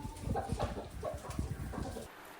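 A rooster gives a few short, low clucks and throaty calls up close, brief and unaccompanied by speech.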